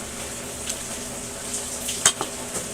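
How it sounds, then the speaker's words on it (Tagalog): Fish frying in a pan gives a faint, steady sizzle, with a few soft clinks of utensils against the pan scattered through it and no talking. "So, favorite prito isda."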